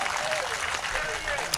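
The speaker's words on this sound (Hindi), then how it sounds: "ताली बजाइए, एनर्जी मिलती है।" Crowd applause at a live Hindi satirical comedy show, a steady wash of clapping throughout with a voice talking over it.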